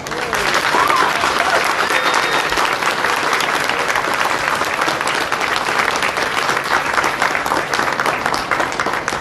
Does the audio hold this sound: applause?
yes